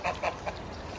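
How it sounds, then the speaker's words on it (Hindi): Ducks quacking and honking three times in quick succession at a date farm garden during feeding, moderately near, with faint background noise between calls. "इनको इनका खाना डाल रहे हैं भाई बतखों को"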